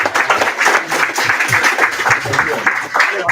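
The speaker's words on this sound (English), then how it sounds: "Round of applause for them." Applause in a room during a student common room meeting after a round of election questions, dense, loud clapping from a moderately sized group, continuous and close, with voices mixed in underneath.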